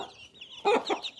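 Young chicks about twenty days old clucking and peeping in a poultry pen, a few soft calls bunched together, close but fairly quiet with light background noise.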